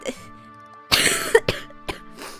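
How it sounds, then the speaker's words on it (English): Several harsh coughs and throat clears, close to the microphone, come in a quick irregular cluster with short gaps between them. "I'm sorry for the coughing."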